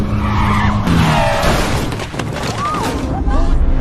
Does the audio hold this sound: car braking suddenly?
yes